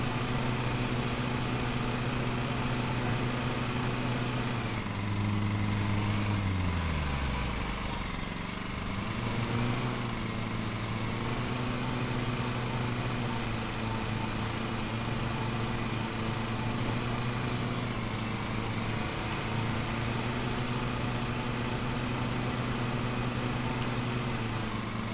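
Steady engine drone of a yellow ride-on lawn mower tractor in Lawn Mowing Simulator, a continuous mid-pitched hum that dips briefly around the fifth second before settling back to an even idle-like note, with no talking.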